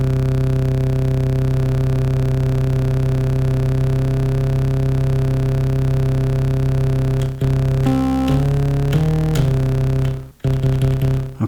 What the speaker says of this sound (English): you can dial this oscillator drift in here to have this wobble effect